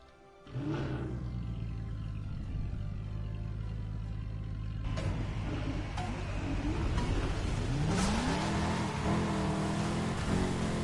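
Race cars in Lego 2K Drive roar and rev loudly and continuously on an icy track, with engine pitch rising and falling and bursts of acceleration, no talking.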